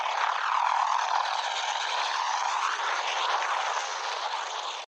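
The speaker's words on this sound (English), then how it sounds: "This is a CH-53E Super Stallion helicopter, and it's a Marine Corps helicopter that's designed for moving passengers and cargo in combat." A Marine Corps CH-53E Super Stallion heavy-lift helicopter holds a steady, loud rotor and turbine roar for the whole stretch, constant and close with no pauses or voices.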